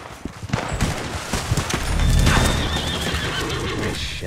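A loud horse whinny rises and falls, accompanied by hoofbeats and bursts of gunfire in a busy Red Dead Online game soundscape.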